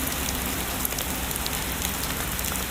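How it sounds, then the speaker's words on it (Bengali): Steady rain falls on a marsh, making a dense, even patter of drops on water that stays close and constant with no talking. "আর গাইজ বৃষ্টি পড়ছে অবশ্য আমাদের এটা জলা, আর জলায় বৃষ্টিটা পড়ছে।"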